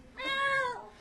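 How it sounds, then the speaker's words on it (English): A single close, clear cat meow used as a time-up signal at a comedy show, rising and then falling over about a second, heard alone. "Your time's up when you hear the sound of a kitty."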